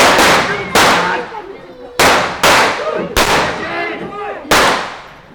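Loud blank pistol shots crack out one after another, six sharp bursts with short echoing tails, during a cowboy gunfight show staged in an old west town.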